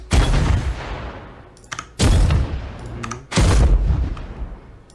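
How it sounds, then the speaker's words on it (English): Three loud booming explosions in the video game Warframe go off in quick succession, each with a sharp crack and a rumbling decay between them. "And there's explosions that go along with those."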